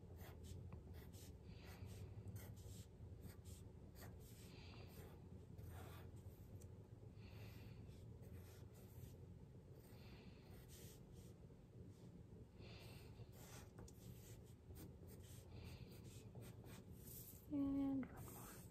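Pencil or pen sketching leaves on paper gives soft, steady scratchy strokes in short bursts, quiet and close, with faint breathing in the background.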